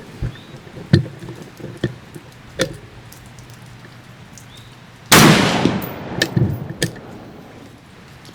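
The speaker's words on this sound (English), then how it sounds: "Let's pop off a couple more rounds" Rifle shots fired at a range while sighting in a cheap OTW 3-9 power beginner scope: several sharp, moderately distant cracks spaced a second or so apart, then one much louder, closer blast with a long fading tail, followed by more light cracks.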